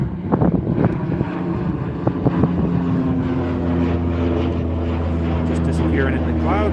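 A FedEx aircraft takes off at Calgary Airport, a steady, loud engine roar with low tonal hum rising and holding, wind buffeting the microphone, and people talking over it.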